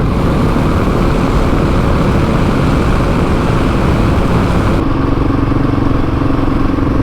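A Husqvarna 701 motorcycle riding at night into Portsmouth, its single-cylinder engine droning loud and steady throughout with rushing wind, the tone shifting slightly toward the end.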